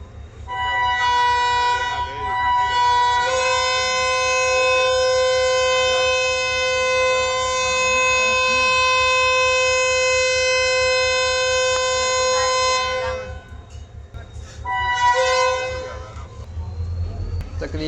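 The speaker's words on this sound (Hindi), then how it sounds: "शालीमार एक्सप्रेस 82 स्टारों के हॉर्न के साथ ही रोहड़ी के प्लेटफॉर्म नंबर 3 से रवाना हो रही है" Multi-tone air horn of an EMD GT26 diesel locomotive, over 3000 hp, pulling the Shalimar Express out of platform 3 at Rohri: a long steady chord of about ten seconds, cut off, then a shorter second blast, loud and close over engine rumble.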